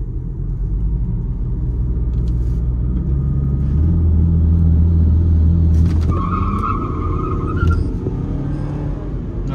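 A stage 1 tuned VW Virtus and a Chevrolet Cruze launch side by side in a drag race, engines rumbling loudly and rising in pitch as they accelerate close by, with a brief tire squeal partway through.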